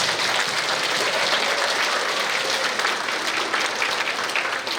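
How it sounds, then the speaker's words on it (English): Steady, dense applause from an awards-day audience honoring healthcare students, a full room of hands clapping continuously at even volume with no talking. "So one more round of applause for all the healthcare students."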